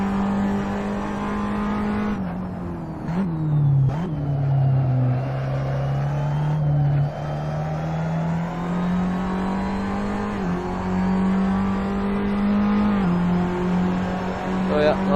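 A Tatuus single-seater race car in Assetto Corsa at Silverstone holds a loud, steady engine drone with small rises and dips in revs as it shifts and corners. A voice talks over the engine.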